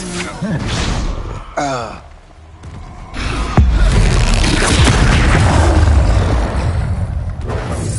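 Expulso spell from Hogwarts Legacy on PlayStation 5 going off as a deep booming blast with a rumbling roar, loud and sustained, mixed in with breathy character gasps and game voices.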